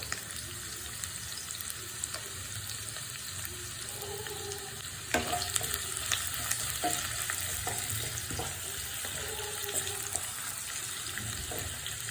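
Spices, green chillies and shallots fry together in oil for a ginger pickle, a continuous close sizzle with scattered crackles and stirring scrapes, growing slightly louder partway through.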